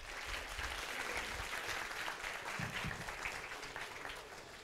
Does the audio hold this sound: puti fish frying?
no